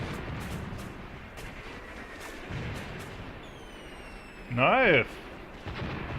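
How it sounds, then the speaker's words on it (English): Mortar fire in the WWII tactics game Graviteam Tactics: a steady crackle of distant battle runs under scattered dull thumps, with one brief voice exclaiming over it near the end. "Okay, mortars are hitting where I want them to, that's good."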